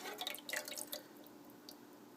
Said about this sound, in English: Adding 1 2/3 cup of lukewarm water